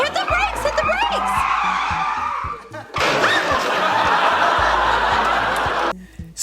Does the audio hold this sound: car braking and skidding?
yes